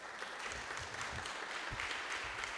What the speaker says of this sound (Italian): quindi glielo facciamo un applauso